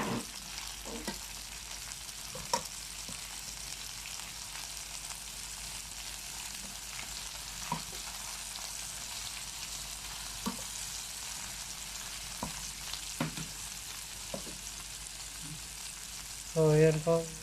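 String beans (sitaw) frying in a pan for adobo give a steady, soft sizzle throughout, with occasional clicks and scrapes from stirring and a brief louder clatter near the end.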